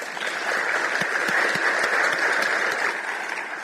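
An audience at a cooperative movement conference claps for a speaker, a steady moderate wash of many hands with scattered sharper claps, no talking.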